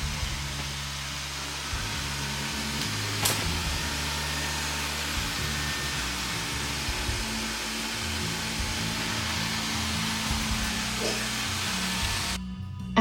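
Eufy E28 robot vacuum running while mapping a house with mixed LVT, tile, lino and carpet floors: a steady, quiet motor whir with shifting low hum and brushing, one brief knock, no talk.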